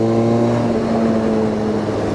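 A steady, low exhaust from a Harley-Davidson X500 parallel-twin motorcycle rumbles with a dry, slightly raspy tone, idling evenly up close without any talking.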